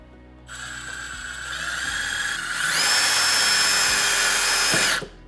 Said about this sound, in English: So I can drill a hole from the inside, making sure to clear the wires.